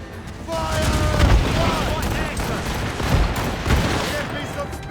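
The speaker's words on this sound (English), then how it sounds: "Cannon ready! Fire!" Ship cannons fire in the video game Assassin's Creed Rogue, a series of heavy booms and rumbling blasts over several seconds, loud and close, with crew voices shouting in between.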